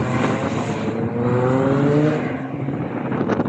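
Lotus cars, among them an Exige, race past on the Cadwell Park track during a Lotus owners' track day, a loud engine roar that rises and sweeps by, then fades into the next approaching car.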